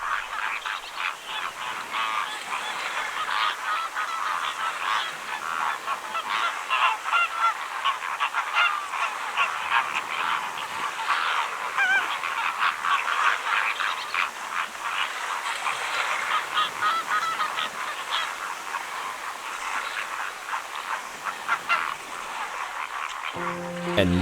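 A large flock of flamingos calls on a beach, a dense, continuous chorus of honking cries with occasional louder calls standing out, steady throughout.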